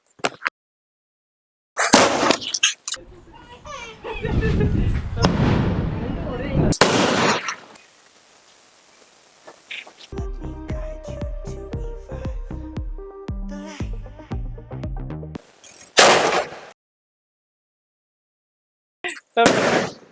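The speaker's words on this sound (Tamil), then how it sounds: "4 இன்ச் பைப் தான் இப்போ வெடிச்சு பார்க்க போறோம்" Four-inch pipe fireworks from Sivakasi go off: several loud bursts, then a rapid crackling string of shots that fades out, with a few more bangs and distant voices.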